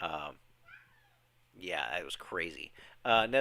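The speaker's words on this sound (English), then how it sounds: "Stan, that's a cat." A cat gives a few drawn-out, wailing meows at close range, broken by short pauses. People talk over and around the calls.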